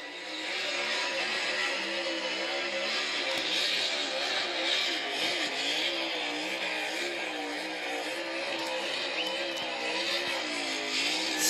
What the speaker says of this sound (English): Smoking the tires.